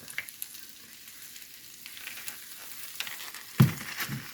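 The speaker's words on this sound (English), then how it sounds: "The first thing we want to do for our enchilada bake is to cook our ground beef" Ground beef frying in a pan for an enchilada bake, a soft steady sizzle with occasional louder scraping stirs and a sharp clatter near the end.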